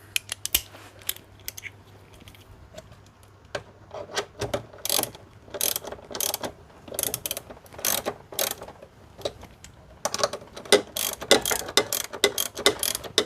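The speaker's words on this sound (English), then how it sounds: "and then just a 13mm socket to tighten them up." Ratchet with a 13mm socket tightening rear strut mount nuts on a BMW E46, giving bursts of quick clicking pawl strokes in short runs with pauses between, close and fairly clear, no talking.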